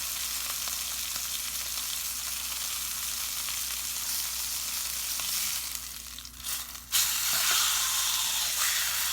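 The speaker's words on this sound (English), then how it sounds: "And what you're doing, you're just crisping the edges." A pot roast sears in a hot pan with a loud, continuous sizzle and hiss of frying fat as its edges crisp, close and steady with a brief dip and surge near the end.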